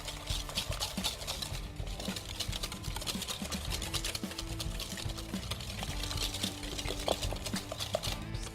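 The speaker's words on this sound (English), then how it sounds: "Just give those a good whisk" Eggs and sugar are whisked by hand for a pumpkin flan, a steady quick clatter of the whisk against the bowl that runs quietly and continuously with no talking.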